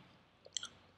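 Someone chewing food, probably something sweet, in a quiet room: a few soft, close crunching bites near the middle, faint and brief, with no talking over them.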